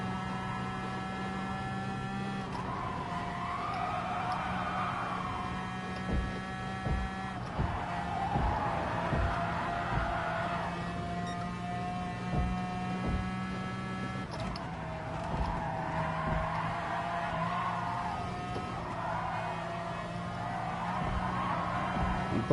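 Race cars lapping a track in the video game Gran Turismo Sport, engine tones rising and falling in repeated pulls with steady mid-level loudness, tyre squeal hints throughout and a faint voice now and then.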